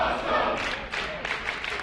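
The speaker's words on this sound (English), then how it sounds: "Listen to this crowd." A crowd at a live RebelMania Smash Wrestling show, cheering in a brief loud swell with rising bursts of shouting and applause.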